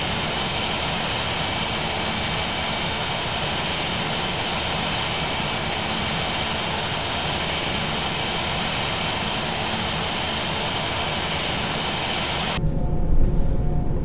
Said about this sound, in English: Engine 2 is now beginning to spool up. In the external view we can see that engine spooling and beginning to start.